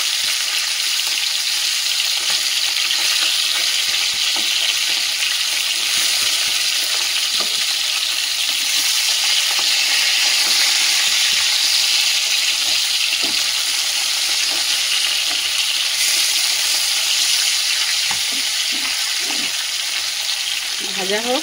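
Fish sizzles and spits steadily in a hot oil pan on a home kitchen stove, a continuous close frying hiss with occasional stirring clinks and faint talk in the background.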